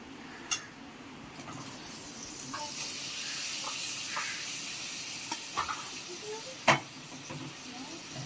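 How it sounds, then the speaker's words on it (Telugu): Mutton pieces hit a hot pan with ginger garlic paste and hiss and sizzle steadily, with scattered sharp pops and clacks of a spoon against the pan. "ఇప్పుడైతే మనం సపరేట్ చేసుకున్న పీసెస్ అనేవి దీంట్లో వేసేసుకుందాం."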